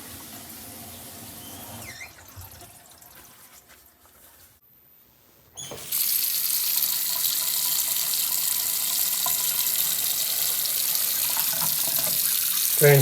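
Water from an unclogged sink drains away after some quieter dribbling and handling sounds. A loud, steady rushing starts suddenly and keeps pouring without a break.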